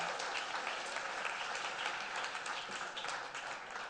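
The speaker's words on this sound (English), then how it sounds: "Give him a round of applause as he comes up here." Audience applause at a university capstone presentation event, a dense, even patter of many hands clapping throughout, moderately distant and steady with no speech over it.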